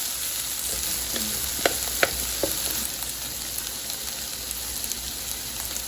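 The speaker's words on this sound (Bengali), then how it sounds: "এটাকে ভালোভাবে কষে নেব।" Spices sautéing in a pan for Kangla fish curry, a constant close sizzle with a few sharp spoon taps and stirring clicks, no voices.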